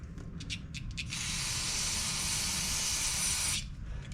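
An aerosol spray can blasts a lubricant onto a stuck part of a pressure washer with a 190cc Briggs and Stratton engine, first in several short hissing puffs, then one sustained close spray lasting about two and a half seconds.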